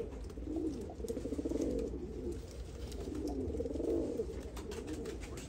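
Pigeons coo softly in repeated, rolling phrases, two swelling calls close together against a quiet background.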